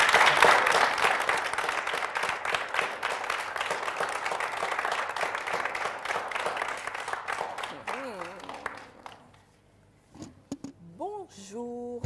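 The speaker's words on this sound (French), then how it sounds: "Sous vos applaudissements" At a Valentine's Day show, an audience applauds to welcome a couple onto the stage, a dense burst of clapping that fades out after about nine seconds before a voice begins speaking.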